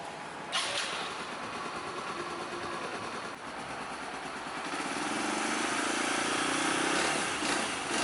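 A Kawasaki KSR Pro motorcycle engine, running without its exhaust pipe fitted, catches with a sharp burst and then runs loud and close in a steady rough idle that swells slightly toward the end.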